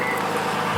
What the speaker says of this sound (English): as we get yet another cold startup here